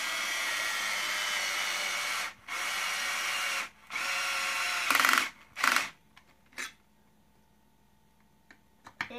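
A power tool runs in several sustained bursts of a few seconds each while bolts are tightened on a skid plate, followed by short clicks and clatter. The whine is loud and close, and no one speaks.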